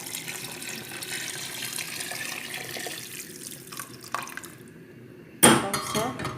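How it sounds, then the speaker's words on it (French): Boiling water pours from a container onto frozen chickpeas in a pot, a steady close splashing stream that thins out, followed by a sharp clink and brief rattle. "Je vais ajouter 1 litre d'eau, bien sûr bouillante, chaude."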